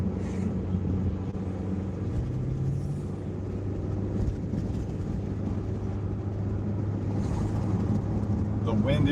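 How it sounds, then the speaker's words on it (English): Steady wind buffeting outdoors during a car delivery drive, a constant loud rumble mixed with road and engine noise throughout. "The wind is blowing out here"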